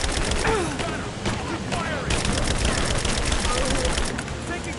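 Bursts of gunfire from a Rise of the Tomb Raider firefight crackle loud and close, dense and continuous across the moment, with dull booms mixed into the noisy battle.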